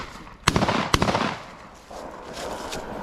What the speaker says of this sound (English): You winged him. Shot his foot off.